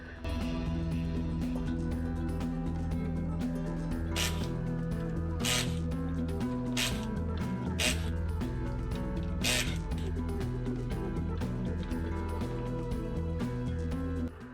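Wheels come off a 2002 Subaru Forester with a ratchet: a handful of short, sharp mechanical bursts spaced a second or so apart, over a steady tonal hum that runs through the whole stretch.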